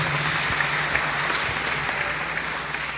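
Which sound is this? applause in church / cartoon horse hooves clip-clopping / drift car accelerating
applause in church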